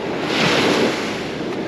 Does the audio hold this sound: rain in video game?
no